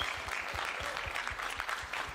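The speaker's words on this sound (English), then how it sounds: "This guy deserves a round of applause" A press conference crowd applauds fighter Mo Batista, dense steady clapping at a fairly low level with a few louder hand claps standing out, sustained without pause.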